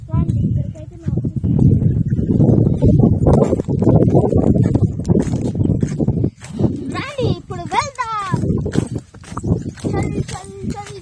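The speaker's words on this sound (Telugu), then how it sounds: "గుర్రం" Horse hooves clip-clop along at a steady walking pace while people talk and sing over them nearby.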